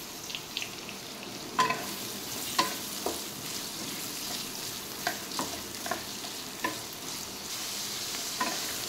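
Roughly chopped onions roasting in two tablespoons of oil in a pan, a soft continuous sizzle broken by sharp clacks and scrapes of a spatula, close and with no voices.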